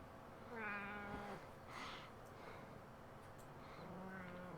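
A cat meows loudly a few times in a domestic setting, drawn-out rising and falling cries with short gaps between them, close by and clear with no talk over them.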